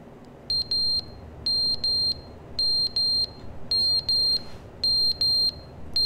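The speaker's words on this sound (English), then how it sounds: "Is that a fire alarm?" Fire alarm in The Stanley Parable: Ultra Deluxe, sounding in short shrill electronic beeps grouped in repeating bursts of two or three, loud and piercing over a low background rumble, with no talking.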